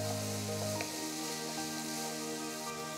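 Onion and tomato for paneer bhurji sizzle and crackle in a hot pan, a steady close frying hiss with occasional soft pops, alongside a constant background hum.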